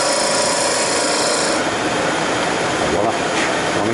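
A detail gouge with cut-back edges shaves into wood in a steady, continuous rasping scrape, loud and close, with no pauses.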